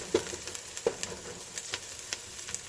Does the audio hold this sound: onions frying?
yes